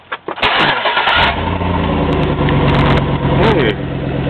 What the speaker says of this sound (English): Let's see how it sounds with a flowmaster now.